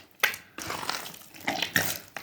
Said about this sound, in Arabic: نزلنا كده بشوية مية تاني.